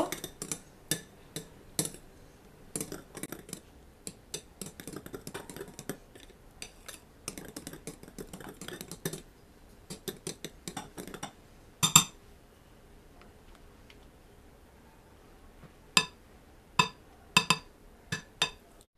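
Orange sponge cake batter is mixed lightly by hand, with a run of quick, sharp clicks and taps of a utensil against the bowl, then a quieter stretch and a few final isolated knocks.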